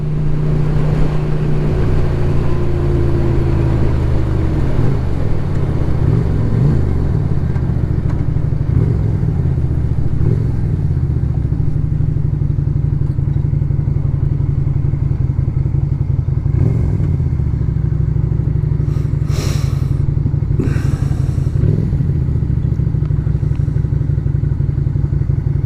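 Lifan Lycan 250 motorcycle ridden on a winter road, its engine droning loud and steady throughout with wind rumble, an occasional clatter, and a brief whooshing pass near the end; no talk.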